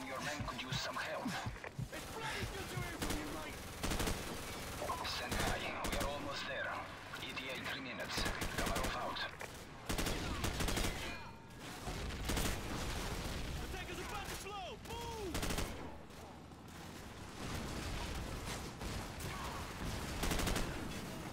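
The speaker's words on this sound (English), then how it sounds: "This is covering fire." Gunfire in the Modern Warfare video game, repeated automatic bursts and heavy shots under frequent talk, loud and sustained throughout.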